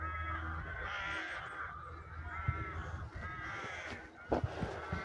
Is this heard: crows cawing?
yes